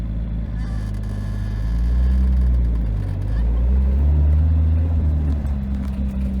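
2JZ-engined car fitted with a Tilton ST246 clutch pulling away gently in first gear, a deep low engine rumble that swells as revs rise then eases, steady and close, with a voice talking over it.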